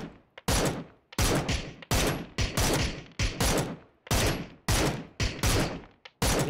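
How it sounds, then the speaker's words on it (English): Rapid bursts of automatic gunfire from the battle-royale game PUBG, a dense string of loud cracking volleys with brief gaps between them, some shots close and others slightly farther off. "They're getting shot at"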